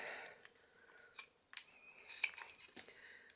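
Scissors snip through paper while trimming a piece for a shabby chic journal pocket, several crisp close cuts with brief pauses, quiet and without speech.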